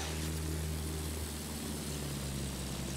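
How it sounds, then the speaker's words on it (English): An enemy plane in Battlefield 1 drones past with a continuous propeller-engine roar, steady and fairly loud with no pauses, heard alone without talk. "Yeah, enemy plane."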